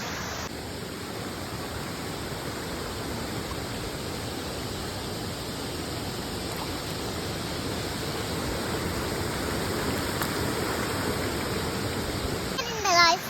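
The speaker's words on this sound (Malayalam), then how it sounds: "ഇവിടെ നല്ലൊരു വള നല്ലൊരു വെള്ളച്ചാട്ടമുണ്ട്" A waterfall on a stream at the Kattippara resort gives off a continuous, even rushing roar, moderately loud and unbroken for over thirteen seconds.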